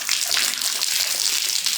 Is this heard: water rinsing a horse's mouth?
yes